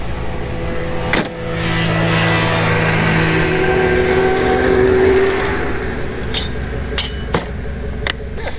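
A Toyota drives on a snowy highway with a steady engine drone and tire rumble, the engine note rising briefly mid-way, punctuated by several sharp clanks and knocks, with no talking.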